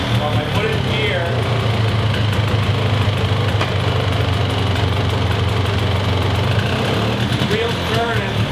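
A Polaris Xplorer ATV engine runs steadily in gear with its wheels turning, giving a close, even mechanical drone with a low rumble and faint rattles. Nobody speaks over it.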